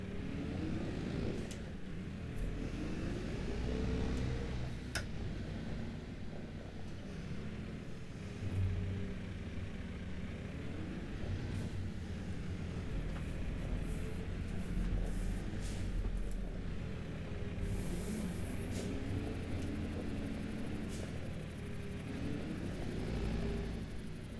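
Tractor slowly reversing a trailer in Farming Simulator 25, a low continuous engine rumble with slight rises and falls in revs, steady and moderately quiet throughout.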